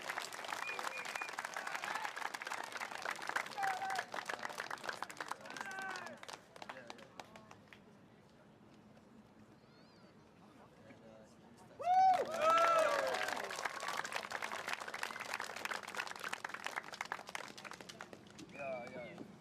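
A crowd at a Singapore election rally claps in sustained applause, fading to a quiet lull before a second burst of louder clapping and some cheering, with voices talking throughout.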